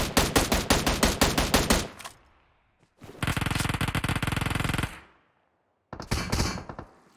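Automatic gunfire in PUBG Mobile, heard as three loud bursts separated by short silences: first a rhythmic run of distinct rapid shots, then a dense sustained volley, then a brief final burst.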